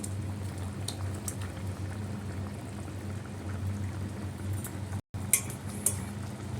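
Bheda fish and coriander leaves simmering in a pot, a faint steady bubbling hiss with a few soft clinks of utensils and a brief gap near the end.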